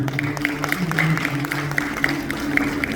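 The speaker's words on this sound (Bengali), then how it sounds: "এবং প্লিজ আরেকটু জোরে হাত তালি।" Clapping from a music video premiere audience, a steady continuous patter of many hands at moderate distance, sustained through the whole stretch with a faint crowd murmur and no clear speech.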